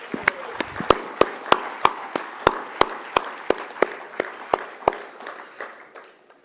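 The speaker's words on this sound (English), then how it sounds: "I think let's have a round of applause for Kamal." Evenly spaced, sharp claps ring out at a conference closing plenary, a steady rhythmic beat of hands close by that slows and fades over the last seconds.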